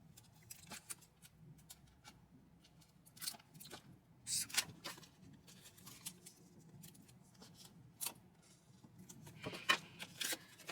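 Scissors snip excess tape for a flap on a handmade snow-day photo album, a few quiet crisp cuts scattered among soft rustling and handling noises up close.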